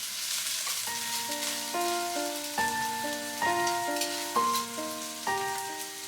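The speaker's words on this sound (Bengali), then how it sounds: "সবগুলো হাই ফ্লেমেতে দিয়ে ভাজা ভাজা করব" Vegetables, including carrot, stir-fry over a high flame for chow mein with a steady close sizzle, while a gentle melody of sustained tones plays throughout.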